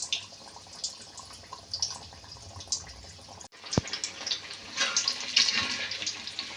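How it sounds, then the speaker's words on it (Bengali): Puffed rice and gram flour chops frying in hot oil give a steady crackling sizzle with scattered pops, quiet at first and growing busier after a brief gap partway through. "এবার আমি চপগুলো ভেজে নেব।"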